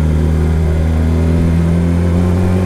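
A Yamaha R6 sport bike fitted with a Yoshimura exhaust idles at low rpm, giving a steady, close, fairly loud engine drone with a smooth even tone and no voices.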